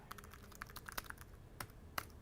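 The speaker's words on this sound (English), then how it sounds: "as you're typing, it is very fast and very responsive" Keys clatter on a Logitech Bluetooth illuminated keyboard, a short run of quick, light, uneven clicks at close range, fairly quiet with no voices.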